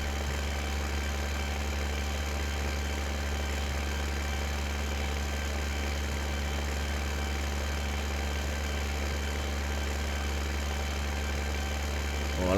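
A tractor engine in Farming Simulator 2015 drones steadily with a deep, even hum, holding constant for the whole stretch with no talking over it.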